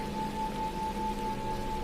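Steady rain pours down in a dark, eerie setting, a dense continuous hiss with a faint constant tone running through it and no voices.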